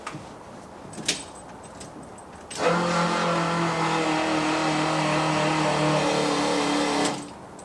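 A car engine idles steadily for several seconds while its carburetor float levels are tuned, holding an even, droning hum after a couple of faint clicks and knocks, then cutting off.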